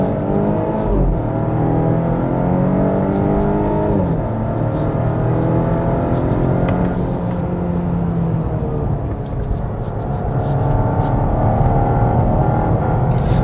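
A 2024 Volvo S60 B5 front-wheel-drive sedan accelerates hard along a winding road, its engine note climbing steadily through the revs, dipping briefly at a gear change and rising again, loud and close throughout.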